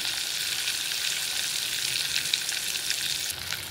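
Ground masala paste frying in a pan for a veg kofta curry; a dense, even sizzle with crackling spatters, close and steady throughout, no voices.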